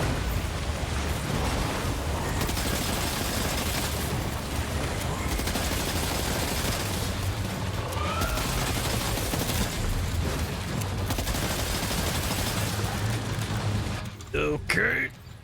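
Sustained dense gunfire in Death Stranding 2, rapid volleys of shots blasting at a creature almost continuously, loud and close, mixed with game noise and a voice talking over it near the end.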